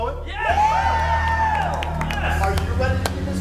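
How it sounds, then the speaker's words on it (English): A crowd claps and cheers loudly, with whoops and shouts rising over sustained applause throughout. "Give her a round of applause"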